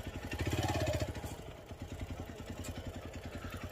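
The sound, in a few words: KTM motorcycle engine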